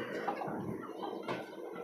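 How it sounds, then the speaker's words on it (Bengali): Native chicken chicks in a caged poultry farm cluck and peep in a steady, busy chatter at close range, with no talking. "এখানে আরো কিছু দেশি মুরগির বাচ্চা আছে আমার এখানে"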